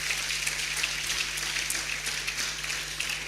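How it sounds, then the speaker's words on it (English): An audience applauds a senator at a university employability fair, a steady, dense wash of many hands clapping, moderately loud and even throughout with a faint low hum beneath. "Let's put our hands together once again for Senator."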